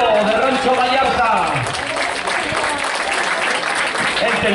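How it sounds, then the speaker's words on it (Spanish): Loud applause from a crowd at a rodeo event, sustained throughout, with voices and shouting mixed into the clapping. "échale un fuerte aplauso a este señor ganadero de Rancho Vallarta"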